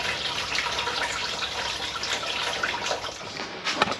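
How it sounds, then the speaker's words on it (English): Coolant pours and splashes steadily from a Honda Civic Si race car, a close, continuous liquid gush with a few brief spatters near the end. "I got the water, or the coolant dumped out of the race car"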